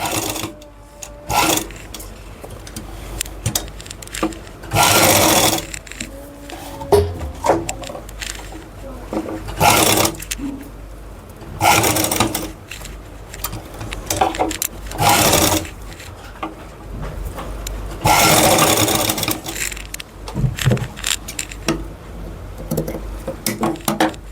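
Sewing machine stitching close along a fabric edge, sounding in repeated bursts of loud rapid whirring between quieter handling rustles and pauses, up close, with a voice speaking in between.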